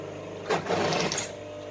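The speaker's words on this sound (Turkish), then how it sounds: "Şu sökük olduğu için ufaktan bir dikiş atacağız." A sewing machine stitching the sleeve of a knit sweater, one short close burst of mechanical whirring lasting under a second, alone against a faint steady hum.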